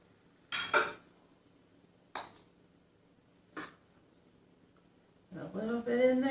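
Skillet corn casserole is served onto plates in a home kitchen, with a few sharp clinks of dishes and cutlery spaced apart and a louder clatter at the end. It is fairly quiet throughout.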